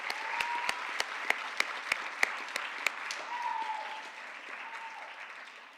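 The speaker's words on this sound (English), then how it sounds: "Let us give them a huge round of applause" Audience members at a college honors award ceremony clap, with sharp scattered individual claps standing out over a soft background of gentler applause that fades away.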